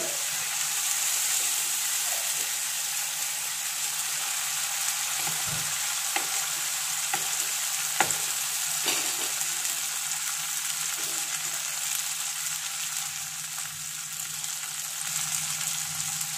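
Garlic frying in oil in a pan while cooking prawn malai curry, a steady soft sizzle running throughout at moderate distance, with a few light clicks of stirring.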